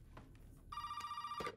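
A telephone rings in the video game Resident Evil VII: a single bright electronic ring burst that is fairly faint and short, set against low ambient game sound.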